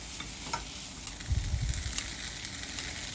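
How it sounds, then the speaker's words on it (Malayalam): Steady frying sizzle of okra masala sautéing in a pan, with a brief burst of stirring and clattering low thuds in the middle, continuous and moderately loud. "ഇത് വീണ്ടും ഒരു 5 മിനിറ്റ് സോട്ട് ചെയ്യുക."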